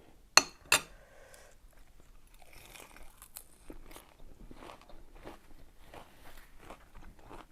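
Cockles being eaten: two sharp crunchy bites open the clip, followed by soft, steady chewing and faint clicks, close and quiet with no talking.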